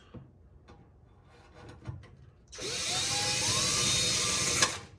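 A pilot point bit drills into metal while bisecting a Plymouth Cricket wagon, with a few taps and scrapes first, then a sustained high whining grind for about two seconds that stops abruptly, close and loud.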